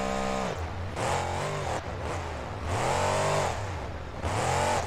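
A monster truck engine in the BeamNG driving game revs hard in repeated surges, rising and falling in pitch and breaking off between bursts, loud and close with no talk.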